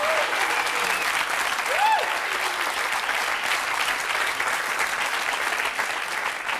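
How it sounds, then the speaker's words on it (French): Studio audience on a French talk show claps steadily and loudly throughout, a dense sustained wash of applause with a brief voice rising above it early on. "Vous pouvez l'applaudir très fort."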